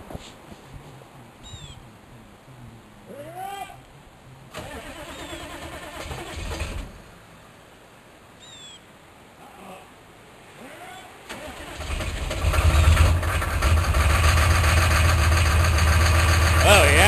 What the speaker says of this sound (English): Maybe a hard, cold start.